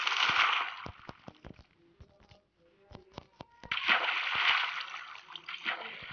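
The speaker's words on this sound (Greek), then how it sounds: "τον TNT δεν μπορεί να σκάσει μέσα στο νερό." TNT detonating underwater in Minecraft Pocket Edition: a quick run of sharp, booming bursts over rushing, sloshing water, loud at first, easing into a quieter stretch, then swelling again.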